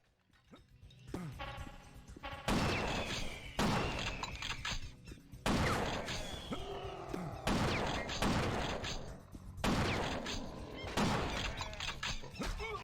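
Lever-action shotgun reloads from the game Will Rock ring out as loud, sharp bursts about every two seconds, each cracking hard and then fading with rattling decay.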